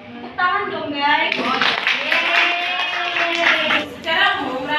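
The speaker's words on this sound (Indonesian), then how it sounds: "Tepuk tangan dong guys" Scattered clapping from a small group in a classroom physics practical mixes with cheerful voices; people talk and cheer over the applause, which rises and dips through the few seconds.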